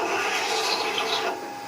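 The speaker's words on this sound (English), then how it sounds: "So we'll drill a hole in there, a 3/8 inch bit, just mount it into a handle." A 3/8 inch bit mounted in a hand handle bores into wood for a lighthouse model, making a close, steady scraping rasp that stops abruptly near the end.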